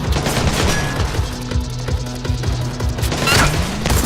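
Rapid bursts of automatic gunfire and impacts in the Splinter Cell Blacklist video game, dense and loud throughout the firefight with repeated sharp shots.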